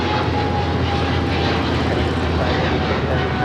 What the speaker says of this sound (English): This is China Eastern Airlines 586 taking off to Shanghai on the 777-300ER.